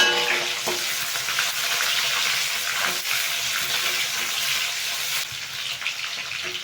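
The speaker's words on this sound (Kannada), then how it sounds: "ಸಾಸಿವೆ ಪಟ್ಪಟ್ ಅಂತ ಇದೆ. ಬೆಳ್ಳುಳ್ಳಿ ಹಾಕೋಣ. ಅದು ಫ್ರೈ ಹಾಕಿ" Mustard seeds and garlic fry in hot oil for a tomato gojju, giving a steady, loud, close sizzle with crackling pops throughout and no talk.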